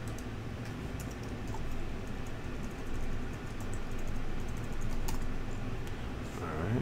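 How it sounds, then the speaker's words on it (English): Steady computer keyboard typing with rapid, irregular keystrokes running throughout, close and moderately loud, with no speech over it. "maybe I'm typing in the class name wrong"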